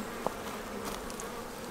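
Honey bees buzz softly and continuously around an open hobby beehive, with a faint, even drone and a slight tick near the start.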